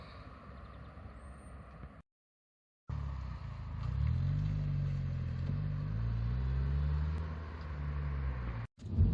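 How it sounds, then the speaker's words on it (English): A 2005 MG ZR 105 Trophy SE driven hard through Birmingham, its engine droning and rising in pitch through the gears from inside the cabin, with a brief cut to silence between runs. "I think it's time for some slightly enthusiastic driving"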